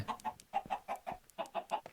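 Rapid, repeated Minecraft chicken clucks in a steady rhythm, close and clear, with a short pause midway before the clucking resumes.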